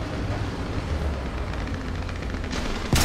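Tank cannon fire in War Thunder, a game with Italian tanks such as the L3/33 CC: steady rumbling battle noise with dull distant shots, then a sharp loud blast right at the end.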